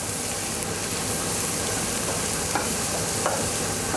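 Onions frying slowly in a pan, a close, even sizzle running throughout with a few soft stirring clicks, no speech over it.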